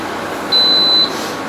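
A single long electronic beep from a kitchen oven, a clear steady high tone lasting about half a second over faint room noise.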